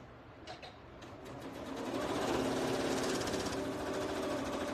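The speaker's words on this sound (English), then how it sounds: "So I am just sewing all the way around." A sewing machine stitches steadily around the edge of a project, its rapid mechanical chatter close and continuous after a few start-stop bursts at the beginning.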